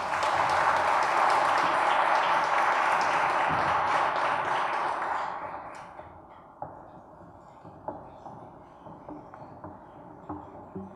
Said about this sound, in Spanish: Lo recibimos con fuertes palmas, por favor.